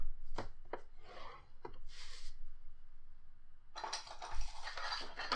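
Paper is scored on a scoreboard for a handmade gift bag, giving short, faint scraping strokes followed by a longer rasping run, close up and quiet.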